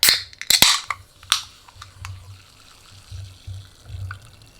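A sharp crack and hiss as a can is snapped open, followed by soft fizzing and a few small clicks, close up with no talking.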